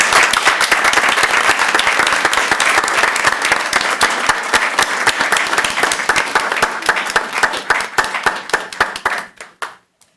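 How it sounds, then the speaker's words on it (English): At a city council meeting, a room of people applauds long-standing employees, loud dense clapping that thins to a few scattered claps and fades out. "Give them another round of applause."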